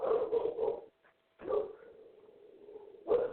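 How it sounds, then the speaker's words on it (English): Dogs bark in the background, a quick burst of three barks, then a longer yelping whine and another bark, fairly close and moderately loud, with no speech over them. "that's my dogs in the background"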